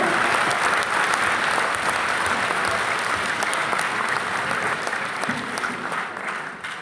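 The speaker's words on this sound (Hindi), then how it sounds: "एक बार हाथ उठाकर तालियां बजाएं सब" An audience at a national poetry gathering in a large hall applauds a poet, dense sustained clapping from many hands that stays loud throughout and eases slightly toward the end.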